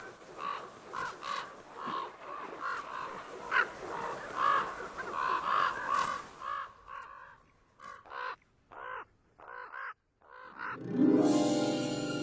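Ravens croak and caw repeatedly close by near a bear's food cache in Yellowstone, loud calls stacking over a busy wild backdrop, then sparse single croaks, ending in a sudden rush of noise.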